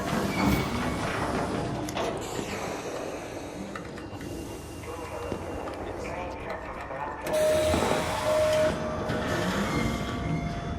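A train arrives in the video game Arc Raiders, a rumbling rail clatter with mechanical clanks and a brief tonal hum, dense game sounds and a voice mixed in throughout.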